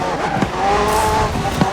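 McLaren P1 GTR supercar with a twin-turbo V8 and electric motor accelerating in Forza Horizon 4, a steady high engine whine rising in pitch, with tire squeal and brief thumps, close and loud.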